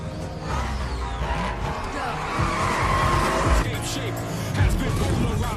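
Racing cars tear through a street race in Fast and Furious 9, with engines roaring, whooshing passes and tires squealing, all layered in a dense, continuous film soundtrack.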